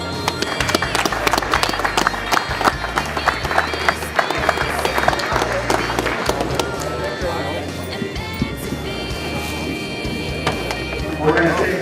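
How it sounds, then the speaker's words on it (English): Audience at a card show applauding a guest, dense clapping from a crowd in a room with people talking over it throughout. "I think we should give him a round of applause"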